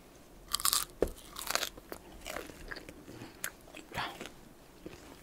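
Crisp, close crunches of KFC fried chicken skin being bitten and chewed, a few sharp bites followed by softer chewing in a quiet room.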